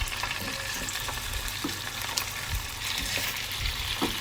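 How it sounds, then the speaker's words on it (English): Chicken drumsticks fry in hot oil in a pan, one piece added at a time, giving a steady close crackling sizzle with scattered sharper pops throughout and no voices. "When the oil is nice and hot, we're gonna start by adding one at a time, making sure that they get really nice and crispy."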